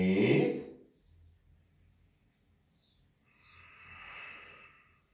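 Slow, deep breaths during a hamstring yoga flow, one audible exhale at the start and a softer airy breath a few seconds later, close and quiet with near silence between.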